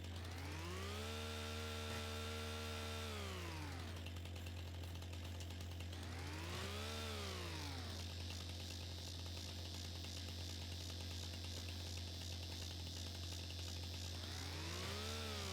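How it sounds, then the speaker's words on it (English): A chainsaw being worked during road clearing, its engine revving up and dropping back in repeated swells over a steady low hum, fairly distant and without speech. "Nothing beats jumping around like a madman with a chainsaw."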